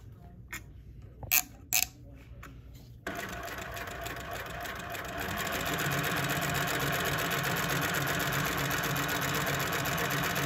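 A coverstitch sewing machine fitted with a belt loop folder, first a few short bursts of stitching, then running steadily at speed with a fast, even mechanical whir and clatter, close up with no talk.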